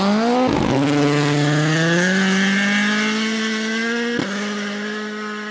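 A rally car at Rally Sweden screams past with the engine at high revs, its pitch climbing through the gears, loud and close. A sharp gearshift cut breaks the note before it fades slightly into the distance.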